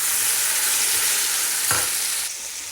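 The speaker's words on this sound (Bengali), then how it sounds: "এই তো দেখো আলুটা ভেজে নিচ্ছি" Potatoes fry in a pan in a home kitchen, giving a loud, steady sizzle that runs throughout, with a brief clatter of stirring partway through and no voices.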